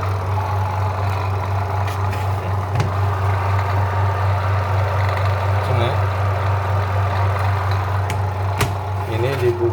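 A faulty washing machine spin dryer with weak spin, brake and limit switch jumpered, running as a steady low motor hum with faint rattles, loud and close throughout, with no voice over it.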